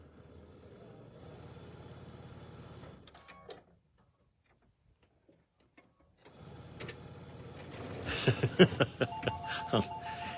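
A sewing machine stitches a quilted tabletop banner in bursts, a steady whirring run, a pause, then more stitching with clicks and a chime-like tone near the end.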